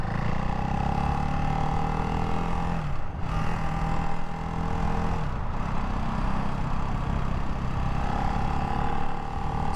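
2024 Ducati Hypermotard 698 Mono RVE single-cylinder motorcycle engine heard from the rider's position, a steady loud drone that dips twice as the revs drop for shifts and then climbs again, with wind noise mixed in.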